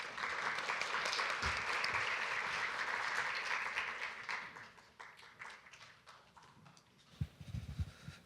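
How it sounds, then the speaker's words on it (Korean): Audience applause fills a university forum hall as a keynote speaker is welcomed to the stage, a dense steady clapping that fades after several seconds, followed by a few louder close claps near the end. "박수로 맞아주시기 바랍니다"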